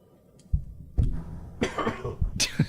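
A couple of short, sharp coughs up close, followed by murmured talking.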